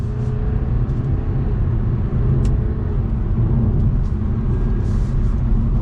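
A tuned BMW G20 320d diesel saloon driving in sports mode along a country lane, with a steady loud low rumble of engine and road noise heard from inside and no speech.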